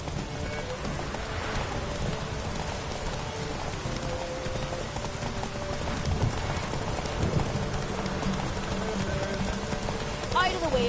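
Hooves of a galloping horse in rain in The Witcher 3 drum steadily under a constant hiss of rainfall, with voices talking over them throughout.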